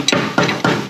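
Hammer blows on steel while removing the ball joints of a Holden HT: three sharp, loud, close metallic strikes in quick succession.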